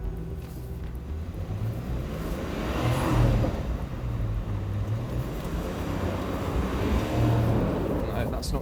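A 4x4 off-roader stuck in a rut, its engine held at a steady, moderately loud drone with a slight rise partway through, a continuous rumble with no break.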